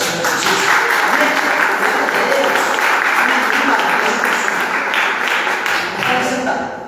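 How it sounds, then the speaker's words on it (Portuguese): A church congregation applauding, with sustained dense clapping that fills the room for several seconds and voices mixed in before it tapers off at the end. "Uma salva de palmas para o Senhor Jesus."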